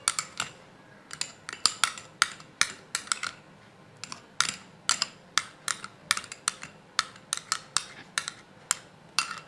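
Spoon beating and mashing tomato pulp in a small bowl, a quick irregular series of sharp clinks and taps, close and fairly quiet, with no talking over it.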